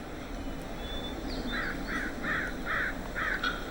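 Jackdaws give a series of about five short, harsh calls in quick, even succession, moderately close, against a faint outdoor background hum.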